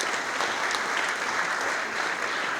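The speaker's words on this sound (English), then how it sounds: "So what a round of applause for Irricon as well" Sustained, even applause from a conference audience at an irrigation industry event, acknowledging a session sponsor, steady throughout with no voices over it.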